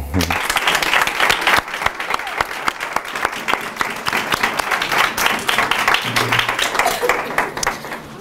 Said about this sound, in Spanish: procedimos con un fortísimo aplauso a José Antonio El Pardo de Zarmea